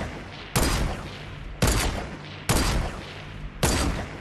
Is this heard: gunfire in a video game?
yes